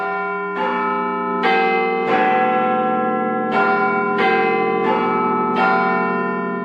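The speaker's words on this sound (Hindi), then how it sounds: "बिग बेन पर घंटी बजेगी" Big Ben's great bell tolling on the morning of the Queen's funeral, with seven loud, ringing strikes at a steady stroke rhythm, each one layering over the long, shimmering hum of the one before it, with no voices.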